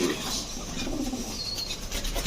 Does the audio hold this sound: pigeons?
yes